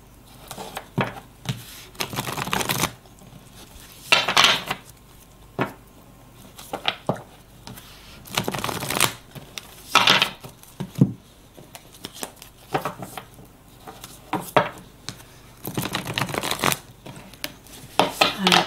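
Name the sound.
shuffling tarot cards for a personal card draw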